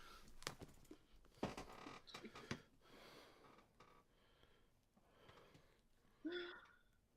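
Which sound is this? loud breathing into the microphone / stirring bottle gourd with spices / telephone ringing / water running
loud breathing into the microphone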